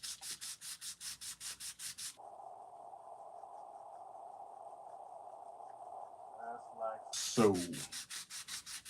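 A Morgan dollar coin ring being sanded with 400 grit sandpaper: rapid rhythmic back-and-forth rubbing strokes, then a long steady scrape, then quick strokes again, close and alone.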